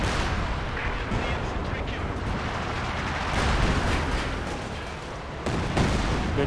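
Grenade blast amid a Company of Heroes 2 battle, dense rumbling booms and gunfire crowding a continuous loud mix, with a sharper burst near the end.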